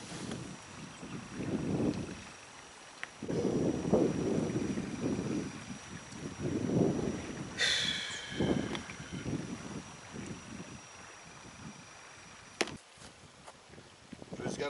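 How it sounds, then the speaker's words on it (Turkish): Wind blows at a lakeside carp-fishing camp in gusty, rushing waves that swell and fade. Brief knocks and rustles sound close by, and no one speaks. "Rüzgar hala var"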